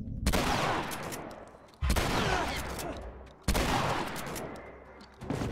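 Three loud gunshot bursts in The Last of Us Remastered, each a sharp blast with a long echoing decay, spaced about every one and a half seconds with no talk over them.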